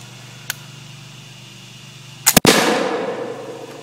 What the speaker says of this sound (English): we're shooting at that Nazi zombie